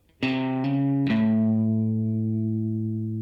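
A distorted electric guitar plays a short blues rock riff with a hammer-on, three quick picked and hammered notes ringing into a sustained, fuzzy held tone, loud and close with no talking.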